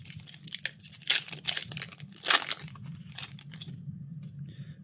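Crinkling and tearing of a Kaldheim Magic card booster pack wrapper, heard as several sharp rustling bursts close by that fade into quiet handling.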